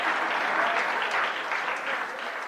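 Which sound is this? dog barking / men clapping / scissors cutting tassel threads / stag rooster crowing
men clapping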